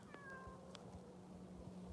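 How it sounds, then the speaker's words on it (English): A cat gives a single short, fairly faint meow near the start, followed by a quiet, steady outdoor background with no talking. "You lonely kitty cat?"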